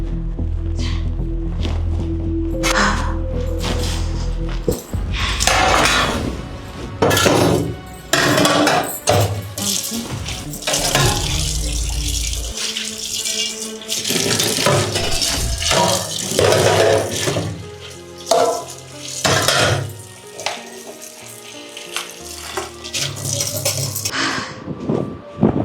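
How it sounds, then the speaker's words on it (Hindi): Dishes being washed at a home kitchen sink: running tap water mixes with clinking and clattering of utensils and pots, loud and close, with irregular bursts of knocking and scrubbing over the flow. "मांज ही देती हूँ बर्तन।"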